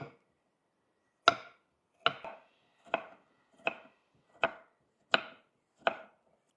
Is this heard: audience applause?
no